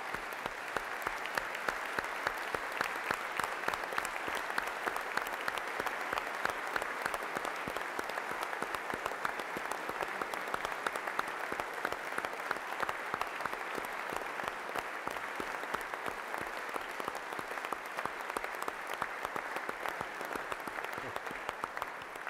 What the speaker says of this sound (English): please stand and take a round of applause